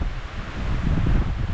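Strong wind blows outdoors among moving trees, a loud, continuous low roar and buffeting against the microphone for the whole short stretch.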